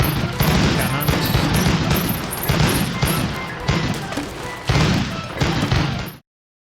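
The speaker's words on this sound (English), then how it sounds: "Cannons." Pirate ship cannons fire in a naval combat video game, a rapid series of loud booming blasts in several bursts before cutting out abruptly.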